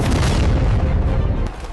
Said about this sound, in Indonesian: Saat amunisi Israel menipis, rudal-rudal paling mematikan Iran dilepaskan.